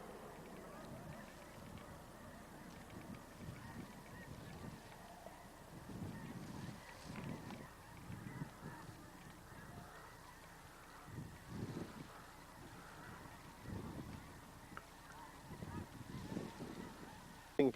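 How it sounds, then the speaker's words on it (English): A flock of Canada geese honks at a distance on a goose hunt, with faint, irregular calls that come and go over quiet outdoor background noise. "That's a bunch of geese though."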